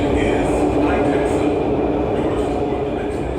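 Shenzhen metro train rumbling steadily with dense, continuous rolling noise from inside the moving car, loud and close.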